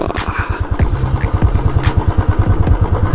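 A Stealth Black Royal Enfield Classic 350 BS6 motorcycle runs close by with a loud, rhythmic single-cylinder thump, a steady putter from the exhaust and a light clatter on top.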